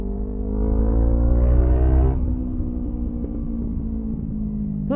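A Kawasaki ZX25R motorcycle engine revs hard while riding, its loud, steady high-pitched whine climbing briefly and then easing back, close and alone with no voices.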